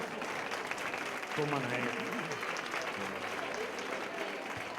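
Audience applause at a children's symphonic music concert, a broad steady clatter of many hands running throughout, with a performer's voice speaking over it partway through.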